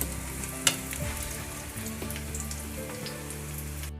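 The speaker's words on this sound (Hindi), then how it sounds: "पनीर को मैंने अलटते पलटते हुए इसको गोल्डन ब्राउन कर लिया है" Cubes of paneer fry in oil in a pan, giving a steady close sizzle and crackle with a few sharper pops and utensil clicks as the pieces are turned, with no talking.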